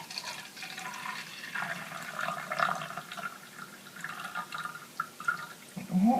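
Oil pours from a small jar in a faint, continuous liquid trickle with light drips, quiet and close, with no talk.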